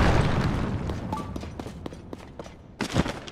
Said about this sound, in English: Let's just go ahead and put this dynamite right here in the middle. Use a fire fruit on it.